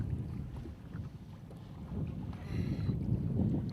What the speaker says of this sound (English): Let this boat get by me.